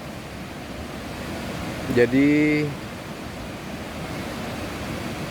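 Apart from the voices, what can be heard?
river flowing beside rice fields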